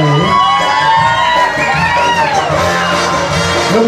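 Wedding reception guests cheer and whoop loudly for two flower girls, a crowd of raised voices and shouts with children calling out, filling the room without pause.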